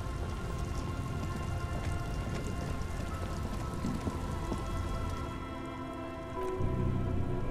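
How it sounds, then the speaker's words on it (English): Steady rain patters on wooden boards in the video game Disco Elysium, a dense even hiss of drops with faint drips, shifting slightly near the end. "All around you, rain keeps falling down on the wooden boards she's standing on."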